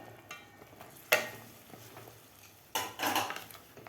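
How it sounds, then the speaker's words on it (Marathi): Cooked chickpeas being mixed into masala in a pot, heard as a few metal spoon scrapes and clatters against the pot, with two louder bursts of stirring over a faint background. "चणेसुद्धा आपल्याला व्यवस्थित मिक्स करायचे आहेत खालच्या मसाल्यामध्ये."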